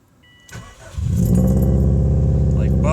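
A 2005 Subaru WRX engine starting: faint clicks, a brief cranking, then the engine catches and settles into a loud, steady idle rumble close by.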